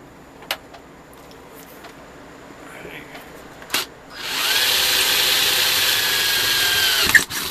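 Power drill boring a hole through a lightweight metal lamp shade for a gas torch lamp, a few clicks first, then a loud steady whine for about three seconds that cuts off abruptly.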